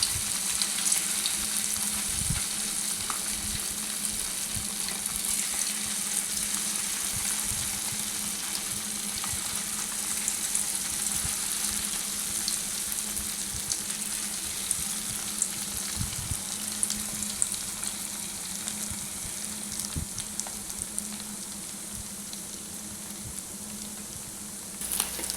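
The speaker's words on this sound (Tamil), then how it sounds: "கோல்டன் ப்ரௌன் வர வரையும் பன்னீரை நல்லா பொரித்து எடுத்துக்கோங்க" Paneer frying in oil in a kadai until golden brown hisses and crackles in a continuous close sizzle, with occasional sharper pops and stirring clicks over the whole stretch.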